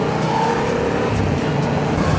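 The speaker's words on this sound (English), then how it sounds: "The one I'm riding now is the yellow MT07." A yellow Yamaha MT-07 motorcycle rides through traffic, its engine holding a steady, close, rumbling drone for the whole stretch with no voices.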